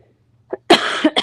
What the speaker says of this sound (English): Excuse me, I'm getting over a cough.